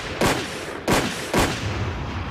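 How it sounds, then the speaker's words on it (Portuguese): Gunshots ring out as three sharp, loud cracks, each with a short echoing tail, spaced roughly half a second apart, with no talking around them. "8 tiros para matar Mark Achille."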